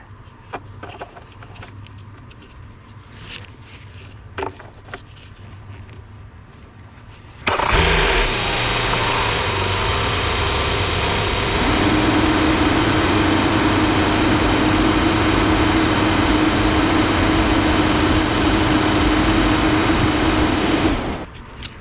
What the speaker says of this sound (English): I'm gonna go ahead and turn the engine on.